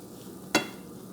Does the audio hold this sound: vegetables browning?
yes